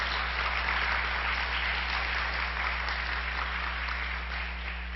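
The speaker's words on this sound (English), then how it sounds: "Let's give them another round of applause." Sustained, dense applause from a church congregation at a Sunday service, clapping steadily for a group of four musicians, fairly loud and even throughout before easing slightly at the end.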